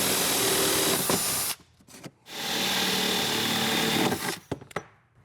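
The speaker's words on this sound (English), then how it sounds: "now it's time to start drilling holes." Power drill whirring loudly while drilling holes in plastic for a Ghostbusters proton pack build, in two sustained bursts separated by a short pause, with brief clicks and stops at the end.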